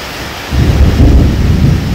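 Loud rolling thunder during a heavy rainstorm, a deep rumble swelling after a brief steady patter of rain and continuing close and strong.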